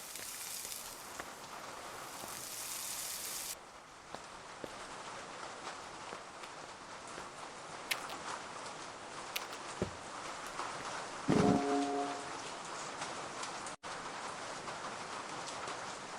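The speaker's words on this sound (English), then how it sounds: "I like the rain sounds." Steady rain on a surface in the Kiosk video game, a soft continuous hiss with scattered drops and a few brief clicks and thuds, quiet and close throughout with no talking.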